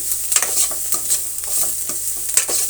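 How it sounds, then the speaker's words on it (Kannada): Broken dry red chilies and onion fry in hot oil, crackling and spitting continuously while a utensil scrapes and stirs in quick, repeated strokes close by. "ಒಂದು ಮೂರು ಒಣಮೆಣಸಿನ್ಕಾಯಿಯನ್ನು ತುಂಡು ಮಾಡಿ ಹಾಕ್ತಾಯಿದ್ದೀನಿ"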